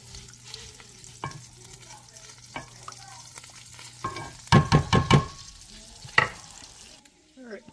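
Butter melts for jambalaya in a pan with a soft low sizzle and faint clicks, then a burst of loud, rapid scraping stirs before the sound falls quiet.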